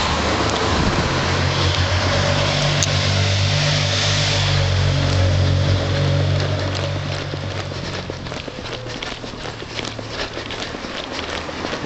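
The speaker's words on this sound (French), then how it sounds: "Beaucoup de circulation ce matin." Heavy morning car traffic beside a large supermarket in La Trinité: a loud, steady rumble of idling and passing engines that eases slightly after about eight seconds, with no talk.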